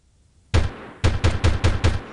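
In Delta Force 2, one sharp gunshot rings out, then after a short pause a quick string of five evenly spaced shots follows, loud and close.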